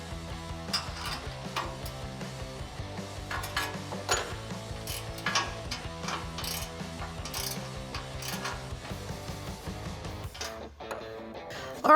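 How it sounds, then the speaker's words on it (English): A 13 mm wrench ratchets steadily while tightening bolts on a tubular rear bumper of a 2009-2018 RAM 1500, rapid repeating clicks running continuously and close up, stopping abruptly at the end. "Grab your 13 millimeter wrench and tighten it down"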